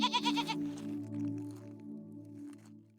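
Goats bleat in a quick run of wavering, nasal cries up front, then fade into a soft, sustained tonal hum that lingers faintly to the end.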